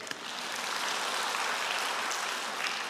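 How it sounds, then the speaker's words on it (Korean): Church congregation applauding at a Sunday service, a steady dense wash of clapping that holds evenly for about three seconds, no voices on top. "16번 정답 박수"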